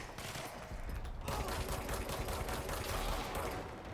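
Rapid, dense automatic gunfire in the video game Control, loud and continuous bursts of shots against an enemy, with a short lull at the start before the firing intensifies.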